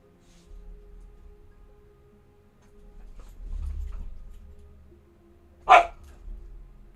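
A single sharp dog bark rings out loud and close near the end, following several seconds of quiet low rumbling background noise outdoors.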